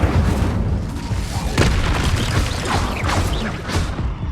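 Incendio fire spell blasts in Hogwarts Legacy, a continuous loud roaring, booming wash of flame and impact noise with several sharper bursts throughout.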